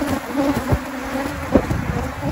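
Dense buzzing of Africanized honey bees swarming around an open, strongly populated hive, a steady close drone with individual bees zipping past the microphone.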